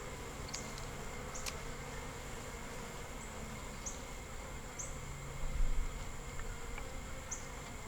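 Honeybees in a small three-frame nuc with a newly caught queen, a close, steady buzzing hum with individual bees darting past now and then, no voices.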